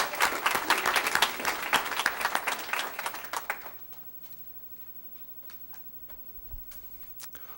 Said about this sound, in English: You both do deserve a round of applause.